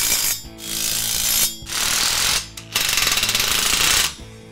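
Close, loud ratcheting of a 3/4 inch socket wrench tightening implement lift pivot bolts in several bursts, rapid clicking strokes separated by brief pauses.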